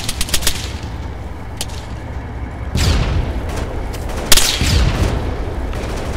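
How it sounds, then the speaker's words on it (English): Heavy machine gun fire in the military video game Arma 3 arrives as a few sharp, close shots, then deep booming impacts and rumbling bursts, loud and spaced out over several seconds. "I think we're taking HMG fire."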